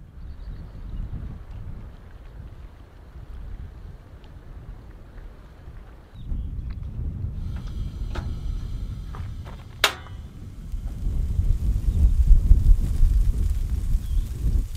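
Wind gusting over a mountain campsite, a low rumbling buffet with a brief sharp knock midway, growing stronger and louder toward the end, with no one speaking.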